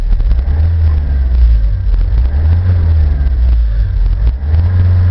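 A Vauxhall Vivaro 2.0 CDTi long-wheelbase diesel van idles up close with a steady, even low rumble, running just under 1,000 rpm.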